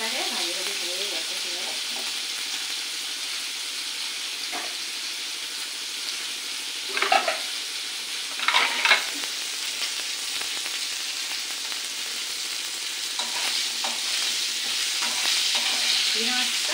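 Prawns frying in a pan over a gas flame give a steady, moderate sizzle that runs throughout, with a few brief louder bursts of stirring or spatter near the middle and no talking.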